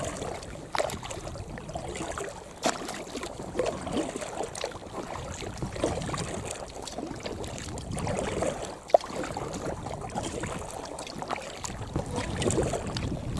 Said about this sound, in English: I've certainly enjoyed this little paddle on the Stainforth and Keadby Canal